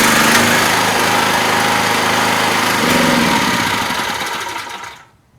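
A small generator that had sat unused and broken runs with a steady, buzzy mechanical drone after its choke is adjusted, holding for a few seconds before dying away to silence.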